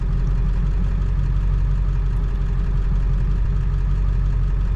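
Ford car engine idling, a steady loud low-pitched drone with an even pulsing hum and no changes in speed.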